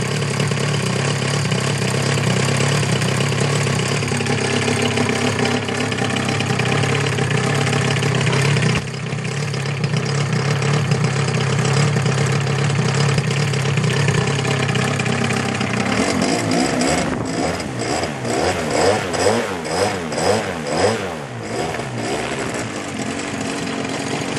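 MVVS 190 model aircraft engine fitted with RE3 headers, running on a test stand at a loud, close, high-pitched buzz, then revving up and down in rapid throttle bursts.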